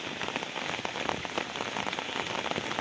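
Heavy monsoon rain pours down over farmland in a dense, constant hiss, close and unbroken throughout.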